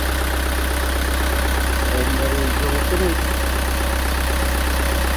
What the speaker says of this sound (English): Now I'm going to let it warm up and let the coolant recirculate throughout the engine